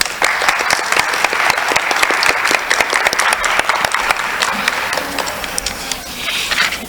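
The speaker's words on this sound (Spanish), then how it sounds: "Un fuerte aplauso, por favor." Loud, steady audience applause at a panel discussion, many hands clapping densely for several seconds, tapering slightly toward the end with little talk underneath.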